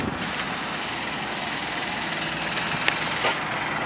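A 1992 MCI or Nova transit bus with a Detroit Diesel engine idles in a steady, unbroken rumble with a constant hiss and little variation throughout.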